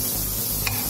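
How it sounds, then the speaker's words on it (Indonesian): Onion and garlic sautéing in a hot pan, a dense steady sizzle with soft stirring scrapes, close and continuous for a short moment with no talk. "Ini kita lagi numis si bawang bombay dan bawang putihnya."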